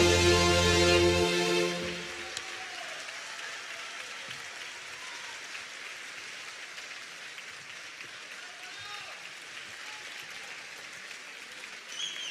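Audience at a Venetian song festival applauds, a dense, steady patter of many hands clapping that carries on after a short burst of music fades out at the start.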